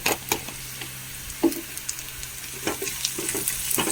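Onions and crushed chili fry in a pan with a constant, close sizzle, broken by sharp clicks and taps of a spoon stirring at irregular moments.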